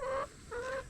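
Hens cluck near a 1987 Ford Thunderbird Turbo Coupe under repair: two short, close, tonal clucking calls separated by a brief pause, loud and with no talk over them.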